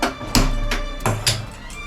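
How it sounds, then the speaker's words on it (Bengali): A gas stove being lit in a kitchen gives several sharp, close igniter clicks spaced unevenly over a couple of seconds, with a soft rush of gas between them. "গ্যাসটা ধরিয়ে দিচ্ছি"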